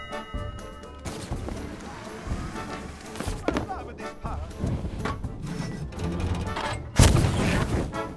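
Cannons fire during a ship battle in the video game Sea of Thieves, several heavy booms and crashes at irregular intervals, one especially loud blast near the end, with voices talking between them.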